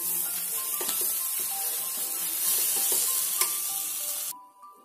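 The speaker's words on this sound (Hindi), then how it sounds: "थोड़ा सा कटा हुआ हरा धनिया और सबको एक साथ अच्छे से मिक्स कर लेंगे" Khil chaat being stirred and mixed with chopped coriander, a steady soft scraping and rustling of spoon through puffed rice that runs continuously and close, with light ticks, then stops abruptly near the end.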